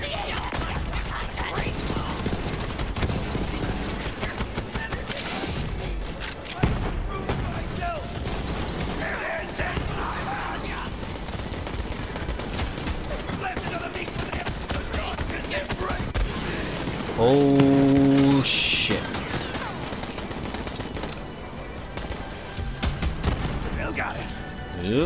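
Gunfire in Borderlands 3: scattered shots and rattling weapon mechanisms under a busy mix of game sound, music and voices talking through much of it.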